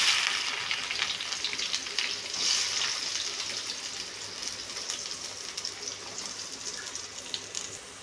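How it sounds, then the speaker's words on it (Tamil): Onions frying in hot oil with mustard seeds in a kadai for mushroom thokku, a soft continuous sizzle that eases slightly in loudness over several seconds, with no talking. "வெங்காயம் சேர்த்துட்டு நல்லா ஃப்ரை பண்ணிக்கோங்க."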